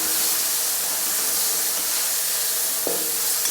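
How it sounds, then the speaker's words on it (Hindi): Two cut tomatoes sizzle and fry in a hot pan with an even hiss throughout and a faint utensil knock near the end. "तो अब इसमें डाल देंगे हम ये 2 टमाटर।"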